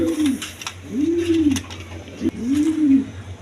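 Pigeons coo close by, three rounded, repeated coos in a steady rhythm over a low background hum, with faint chatter and flutter in between.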